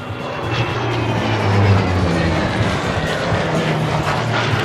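A loud, steady aircraft engine roar at an air show in Saint-Tropez, with a low droning hum, holding close and constant throughout.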